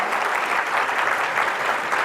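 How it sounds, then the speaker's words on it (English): A gala audience applauds at a live event with steady, even clapping that goes on for the whole stretch, moderately loud and with no voices on top. "we should clap"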